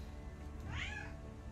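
Cat meowing in the video game Mageseeker: a single short, rising-then-falling meow, clear but fairly quiet over a steady background music bed.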